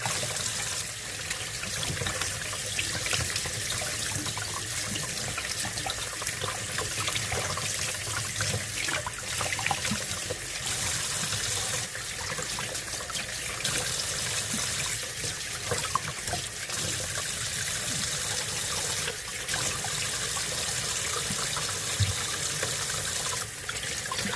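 Water runs steadily from a tap while a face is rinsed at a sink. The flow is close and continuous, with an even splashing hiss and no talking.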